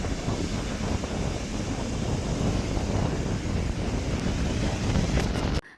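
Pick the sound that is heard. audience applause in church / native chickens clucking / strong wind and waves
strong wind and waves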